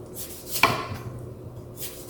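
A knife cuts through the end of a honeydew melon, giving a single firm chop onto a cutting board followed by soft rubbing and handling noises, close and fairly quiet.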